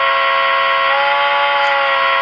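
Steady whistle-like horn tone from the sound decoder of an HO scale Athearn Genesis Warbonnet FP45 DCC model locomotive, its pitch bent by pressing hard on the controller, loud and continuous with a faint hiss.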